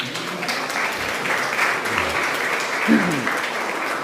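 A congregation at Sunday Mass claps for the parents, a sustained, moderately loud patter of many hands with some voices underneath.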